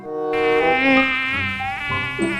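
Wild dwarf honey bees buzz at their nest in a palm tree, a loud, close, continuous drone with shifting pitch from many wings.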